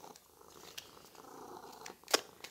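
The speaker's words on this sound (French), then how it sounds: "Alors, j'ai le chat qui ronronne, là." A house cat purrs close by in a quiet room, a soft rhythmic rumble rising and falling, broken near the end by a brief sharp rustle or click.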